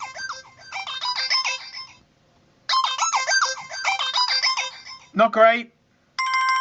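A phone ringtone called Bumblebee played from the settings menu, a bright buzzy electronic melody in repeated bursts with pauses, and a person speaks briefly between the plays.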